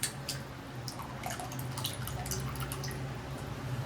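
Tamarind water poured into simmering sambar in a home kitchen, heard as a soft, steady liquid pour with light dripping and splashing, continuous and close, over a low background hum, no speech.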